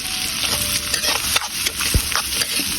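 Garlic, onion and ginger sautéing in a hot pan, a continuous close sizzle with quick stirring scrapes and a few utensil knocks across a short stretch.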